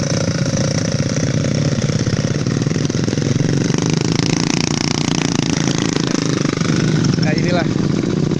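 A motorcycle engine runs with a steady throbbing drone on a rock-strewn village road after an earthquake in Mamuju, Indonesia, the bike's tyres fitted with chains; someone talks loudly over it throughout.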